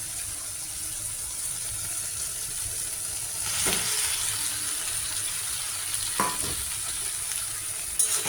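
Boiled, salted potatoes added to a frying pan with tomatoes, a steady close sizzle that swells as they go in, with a few sharp scrapes and clinks of a utensil.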